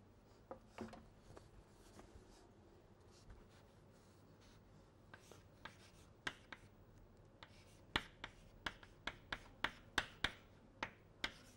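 Writing out a physics integration answer by hand: scratchy strokes and sharp taps, sparse at first, then a quick run of crisp clicks toward the end, close and fairly quiet, with no talk.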